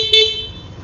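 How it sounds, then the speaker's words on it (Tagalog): A short, bright horn beep from a Yamaha Mio Aerox S (ABS version) scooter sounds once up close, then its tone fades over a low engine idle. "busina"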